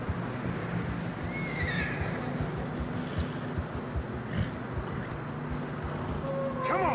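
Horse neighing and hooves in Red Dead Redemption 2 on a narrow snowy trail, with steady clip-clop footfalls throughout and a whinny rising near the end, all under continuous wind and snow ambience.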